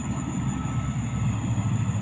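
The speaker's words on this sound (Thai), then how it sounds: "รถไฟครับผม" A train passes near a fishing spot, a steady loud low rumble and rolling drone with a faint high whine above, continuous throughout without voices.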